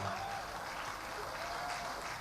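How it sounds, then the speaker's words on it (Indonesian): Audience applause at a political campaign event in Jakarta, a steady continuous wash of many people clapping heard at a distance, soft and even throughout. "tepuk tangan untuk Al-Ustadz Suswono"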